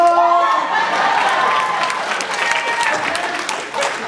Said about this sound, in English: You all are cheering